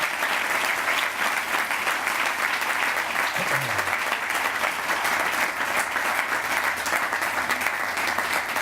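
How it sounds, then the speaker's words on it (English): A school audience at a precision machining lab gives a sustained round of applause for the first class of machining students, steady and dense throughout with faint crowd noise. "Let's give them a great round of applause."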